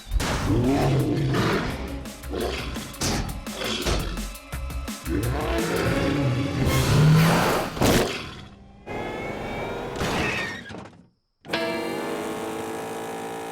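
Loud engine roaring and revving in rough bursts, cutting out briefly to near silence before a lower rumble returns.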